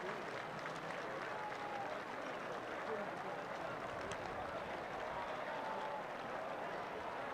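Crowd at a West Forsyth vs Reagan high school football game cheering and applauding continuously, a steady roar of voices and clapping with a mother's cheering somewhere in the mix and commentary talk over it.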